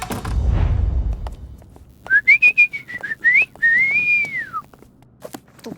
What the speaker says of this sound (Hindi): ये आपको देखकर सीटी नहीं बजा रहे।